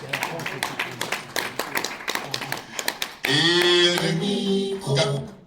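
Guests at a community association gathering are applauded: scattered individual claps build, then a loud burst of cheering and singing-like voices swells from the crowd near the end.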